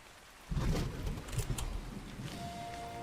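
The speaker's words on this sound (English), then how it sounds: "looks like we got rain" Rain with a rumble of thunder in the game Ark Survival, Scorched Earth map, starting suddenly as a loud broadband downpour with a low rolling boom, then a steady hiss of rain continuing to the end.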